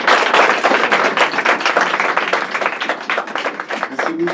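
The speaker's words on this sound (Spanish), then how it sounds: "Un aplauso, por favor." An audience at an international colloquium on violence applauds, dense clapping from many hands filling the room at close range, steady and loud before slowly thinning toward the end.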